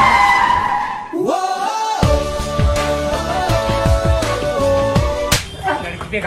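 A car skids with a loud, close, drawn-out tire squeal that wavers in pitch, followed by a few short knocks near the end.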